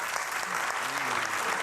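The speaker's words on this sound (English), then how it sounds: "Wow, his audience applauded." A studio audience at Gutfeld! breaks into steady, close applause that lasts the whole moment without a break, with a faint voice low beneath it.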